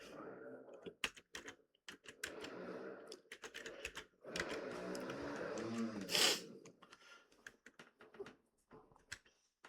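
Keys clatter on a computer keyboard in short, irregular bursts while entering an Excel formula, quiet and close, with a person speaking between and over the typing.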